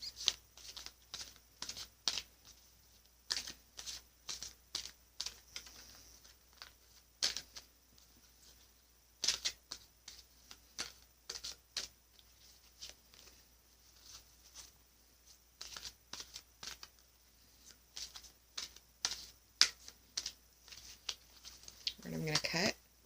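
Sacred Rebels Oracle cards, a deck by Elena Fairchild, being shuffled by hand: a long run of quick, crisp papery riffles and taps in irregular bursts, close and fairly quiet, ending in a slightly fuller flurry.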